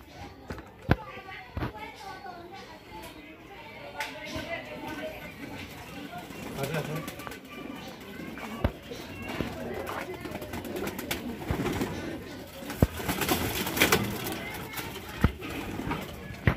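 Young Huben line racing pigeons coo and shuffle at the loft, their low calls mixed with scattered taps and wing or foot knocks, while someone talks nearby.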